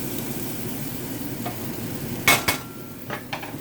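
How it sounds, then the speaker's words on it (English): Sizzling eggs being stirred in a frying pan for a kitchen sink scramble, a soft steady hiss with a few sharp utensil scrapes and clinks against the pan in the second half. "Just going to mix it around a little bit"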